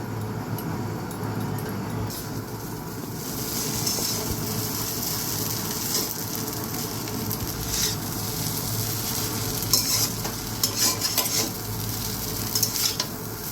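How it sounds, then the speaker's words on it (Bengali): Chow mein being stir-fried in a pan with tomato sauce, chilli sauce and fried vegetables, a steady close sizzle with continuous scraping and stirring of a utensil against the pan and occasional metallic clinks. "ভাজা সবজিগুলো দিয়ে দেবো"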